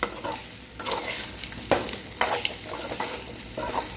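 Tapioca stir-fry stirred in a pan with a spatula, with scraping strokes recurring over a continuous close sizzle.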